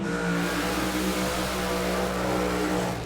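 Top alcohol dragster fitted with an Oxygen Performance exhaust at the Wellard Motorplex drag strip, a loud, sustained engine roar held steadily at high revs, close and continuous with no talk.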